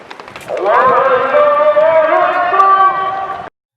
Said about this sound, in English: What you are hearing now is the azan.